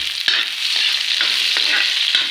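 Onions fry in a pan for pork adobo with chayote, making a continuous close sizzle broken by several clicking spatula strokes at uneven intervals, with no speech.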